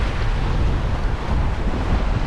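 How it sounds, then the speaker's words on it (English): Strong wind of 23 to 30 knots buffets the microphone aboard a fast-moving sailboat off the Canary Islands, with a dense, steady roar and rushing water beneath. "We've got between 23 and 30 knots of wind at the moment in the acceleration zone"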